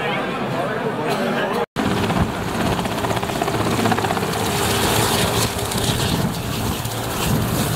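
Twin Otter propeller planes fly toward Lukla airport in Nepal, their engines making a loud, steady droning roar that cuts out briefly near the start before continuing, with a voice talking over it.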